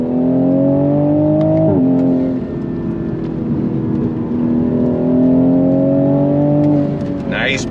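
A modified Mk5 Toyota Supra accelerates on throttle, its engine note rising steadily with a brief dip at a gear change before climbing again, loud and close inside the cabin.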